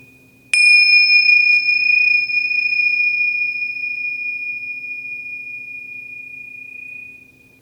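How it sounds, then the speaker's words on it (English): Meditation bell struck once to open a session, a single clear metallic ring with a sharp attack and a long, pure sustained tone that slowly fades over about seven seconds in a quiet room. "I'll ring the bell to get the meditation started"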